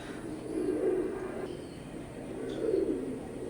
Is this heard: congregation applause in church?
no